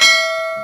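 A single bright bell strike used as a notification reminder effect, loud and close, with a clear ringing tone that decays slowly.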